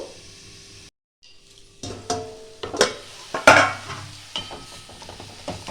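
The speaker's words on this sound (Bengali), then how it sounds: "একটু মিডিয়াম টু লো ফ্লেমে করে দিচ্ছি, যাতে একটু জল বেরিয়ে যায় সবজিটা থেকে।" Vegetables for a Bengali vegetable chop cook in a pan over a medium-low flame, with a soft sizzle under scattered clinks and scrapes of a spoon stirring against the pan, close and fairly quiet.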